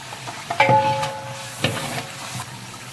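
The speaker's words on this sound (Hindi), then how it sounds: "ये देखिए जी, मसाला हमारा भून चुका है" Whole spices (cumin, curry leaves, cardamom and whole garam masala) fry in oil in a large biryani pot while being stirred, a close, steady sizzle with rough scraping strokes and a brief metallic ring.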